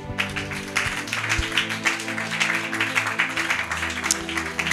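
A church congregation applauds to acclaim the Lord Jesus Christ during a Bible study, a steady, moderately loud wash of many clapping hands that carries on throughout.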